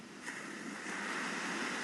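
Waves roll onto a seashore in a steady, wide wash of surf that swells slightly louder midway through, with no voices present.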